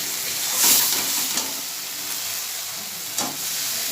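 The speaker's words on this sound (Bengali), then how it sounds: "এবার মশলাটা একটু কষিয়ে তারপরে জল দিয়ে দেওয়া হবে" Masala sautéing in a pan gives a dense, continuous sizzle and hiss close by, with occasional stirring scrapes and a brief louder burst of spitting early on.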